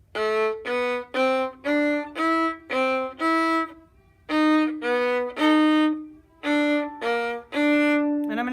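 A violin plays a quick passage of short, separate notes, with a brief pause midway, then the line continues with a few longer tones.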